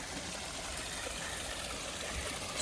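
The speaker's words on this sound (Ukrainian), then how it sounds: "Знову маленький такий водоспадик." A small waterfall trickles over moss on the spa island at Piešťany, giving a soft, even, continuous rush of running water heard from a short distance, with no voices.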